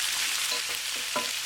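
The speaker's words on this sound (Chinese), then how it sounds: "锅中油热，爆香葱姜蒜，再倒入切好的蔬菜，给它翻炒均匀" Chopped vegetables stir-fried in hot oil in a pot after scallion, ginger and garlic are fried until fragrant: a steady close sizzle with a few spatula scrapes and taps, and no talking.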